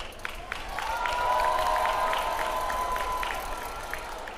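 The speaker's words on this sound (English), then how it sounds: "Please give a round of applause for these scholars." A high school commencement audience in 2022 breaks into applause and cheering, a dense wash of clapping that swells and holds with a sustained whoop rising above it, then eases off.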